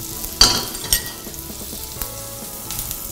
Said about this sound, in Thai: อันนี้ผมวอร์มกระทะไปแล้วนะครับ กระทะจะร้อน นะครับ เราก็เกลี่ยเนยให้ทั่วกระทะนะครับ